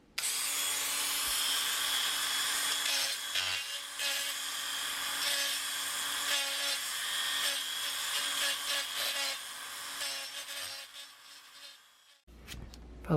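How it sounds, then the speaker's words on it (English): A small rotary grinding attachment on a handheld tool smooths a rough tire rim, giving a steady high-pitched whine with gritty scraping that wavers in pressure for about twelve seconds before cutting off. "what I'm going to do now is get in here with a little grinding attachment"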